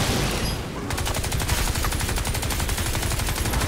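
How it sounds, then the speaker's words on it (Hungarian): Rapid automatic gunfire rattles in a dense, continuous burst during a firefight in the shooter game Crysis 3, loud and close, with no talk over it. "Ne, ez az utolsó lövésem."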